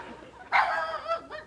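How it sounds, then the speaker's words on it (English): A small dog gives one short, close bark followed by a brief higher yip, heard in a living room while an episode of a sitcom plays. "Sounds like a little dog."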